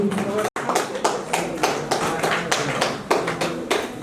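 An audience claps at the annual general meeting of a savings and credit cooperative, several loud bursts of applause with a brief gap near the start.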